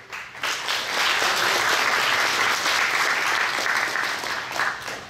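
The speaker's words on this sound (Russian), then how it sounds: "И еще раз, дорогие друзья, аплодисменты." Audience applause following a talk on succeeding with YouTube, a dense, steady wash of many hands clapping that swells quickly and holds loud for several seconds before easing slightly.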